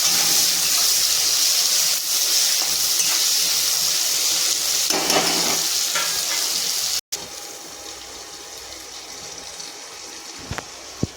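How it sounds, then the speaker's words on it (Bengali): Eggplant pieces sizzle steadily in hot oil in a home kitchen, a continuous bright hiss with a brief cut partway through, then a slightly quieter, even frying sound. "এবার বেগুনগুলো ভেজে নিচ্ছি।"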